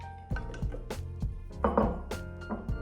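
Frozen butter pieces drop into a Thermomix bowl with flour, making a series of short, hard knocks and thuds, close and fairly crisp, with a brief rattling clatter midway.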